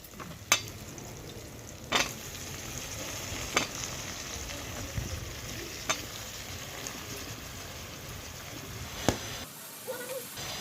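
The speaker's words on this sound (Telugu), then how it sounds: "ఇప్పుడు ఇందులోని వంకాయలు వేసేసుకోవాలి" Eggplant pieces frying with onions in a pan, a steady soft sizzle under occasional sharp clacks of a spoon against the pan as they are stirred, close and fairly quiet.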